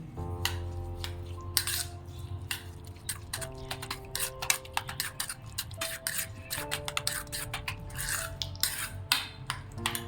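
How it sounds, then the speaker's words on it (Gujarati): Spoon stirring mixed vegetable raita with sugar, chili, chaat masala, black salt and salt in a bowl, giving repeated light clinks and scrapes against the dish over a steady low hum, close and without talk. "હવે તેને મિક્સ કરી લઈએ."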